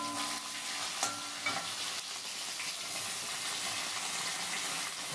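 Onion and garlic fry with cumin in hot oil, a continuous bright sizzle with a few soft stirring knocks, fairly quiet and close, with no talking.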